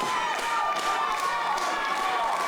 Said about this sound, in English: Crowd getting behind Rhino here.